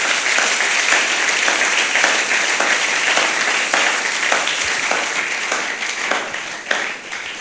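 A church congregation bursts into sustained loud applause and clapping that fills the space steadily, fading slightly toward the end, with cheering voices mixed in.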